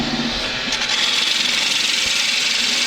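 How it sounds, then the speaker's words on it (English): A wood lathe sped up while turning a bowl runs with a steady rumbling whir and a faint rhythmic wobble, close and loud, no talk. "I can hear the lathe wobbling"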